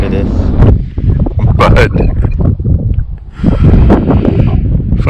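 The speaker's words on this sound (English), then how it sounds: "really windy" Strong gusting wind buffets the microphone on a mountain hike, loud and rumbling throughout with a brief lull near the middle, while a person talks over it.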